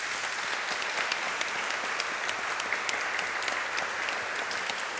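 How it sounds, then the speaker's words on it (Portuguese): A crowd at a public debate in a municipal chamber applauds continuously, a thick, even wash of many hands clapping with a few sharper claps standing out, sustained throughout without speech. "eu gostaria de pedir uma salva de palmas para ela."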